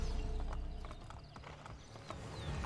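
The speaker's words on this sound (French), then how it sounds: "Escorter Caterina à cheval pendant qu'elle s'enfuit du château Saint-Agne" Horse hooves gallop in the Assassin's Creed Brotherhood video game, a rapid, continuous clip-clop that stays close and loud throughout, with a brief whinny-like call and no talking.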